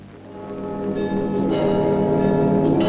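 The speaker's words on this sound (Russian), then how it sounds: "День города начинался перезвоном кремлевских колоколов." Kremlin church bells ring a sustained peal, rich overlapping tones swelling steadily louder and resonating continuously without pause or any voices.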